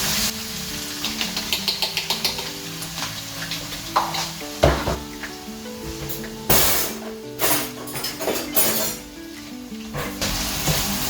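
Chopped onions frying in a pan for egg fried rice, a soft steady sizzle under clattering knocks and scrapes of a utensil stirring against the pan.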